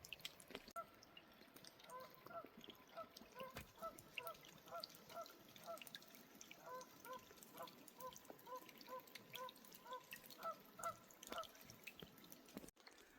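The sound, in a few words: Canada geese honking near a lake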